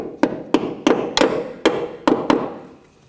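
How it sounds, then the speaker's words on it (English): A hammer taps a brake hose retaining clip into place on a 2014-2020 Nissan Rogue, striking six sharp metallic blows at an uneven pace, close and distinct. "I'm just going to tap it in with a hammer."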